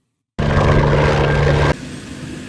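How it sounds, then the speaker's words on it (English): A library helicopter sound effect: a loud engine-like roar kicks in abruptly after brief silence, holding steady with a droning hum, then drops to a quieter rumble near the end. "I've got a helicopter. Let's have a listen."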